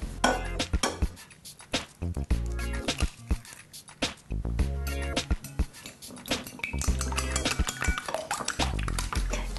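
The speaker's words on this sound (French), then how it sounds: "nous allons casser 2 œufs dans une assiette creuse et les battre" Two eggs beaten in a deep plate for brioche pain perdu, with fast irregular clinks and taps of a utensil against the dish, close and busy throughout, with brief pauses.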